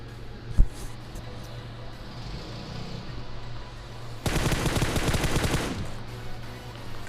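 Automatic gunfire in the battle-royale game PUBG Mobile, a sustained rapid burst of shots about a second and a half long following a single sharp report, set against a low steady game ambience.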